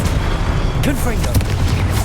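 A booming fire-blast explosion from the Confringo spell in Hogwarts Legacy, cast during a duel, landing amid continuous battle noise with voices speaking over it.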